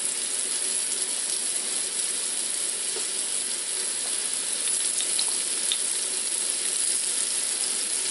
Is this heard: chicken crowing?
no